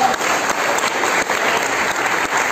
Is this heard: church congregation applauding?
yes